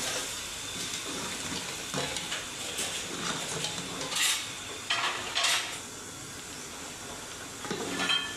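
Chicken karahi being stirred in a pan, a white cream-based restaurant-style version on low heat, giving a steady soft sizzle with scattered scraping and clinking of a utensil against the metal, no talking.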